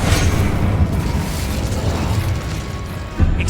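Incendio fire spell cast in Hogwarts Legacy, a loud rumbling whoosh of flame with low booming bursts that roll on steadily, then a sharper pop near the end.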